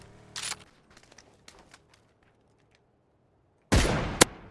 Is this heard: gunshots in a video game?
yes